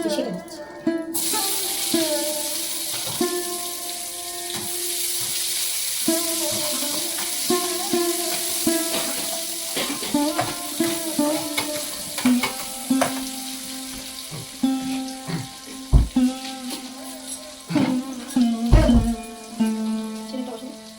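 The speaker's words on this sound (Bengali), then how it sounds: "এর মধ্যে একটা মাঝারি টাইপের সাইজে একটা পেঁয়াজ কুচি দিচ্ছি" Chopped onion fries in a pan with a crackling sizzle, broken by frequent scrapes and clatters of stirring and a couple of sharp knocks near the end.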